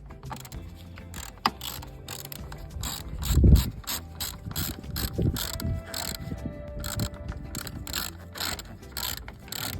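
A wrench ratcheting on the plastic battery hold-down of a 2014 Ford Focus, giving close, rapid clicking bursts with pauses and a few heavier knocks as the clamp is tightened.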